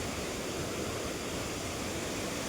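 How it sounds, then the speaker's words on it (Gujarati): Water pours over the overflowing Shetrunji dam near Bhavnagar, a dense, constant broadband roar that fills the clip evenly and stays steady throughout, with no talk above it. "અહીંયા જો આ બધું પાણી જાય છે, પેલી બાજુથી પડે છે, આમાંથી પાણી પડે છે"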